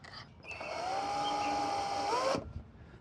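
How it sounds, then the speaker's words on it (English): A power drill runs steadily for about two seconds with a high whine while drilling into a kitchen drawer, then stops abruptly. "see if I can drill left-handed"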